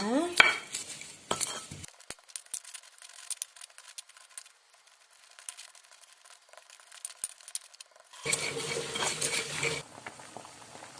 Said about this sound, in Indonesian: Kita ulek bumbunya.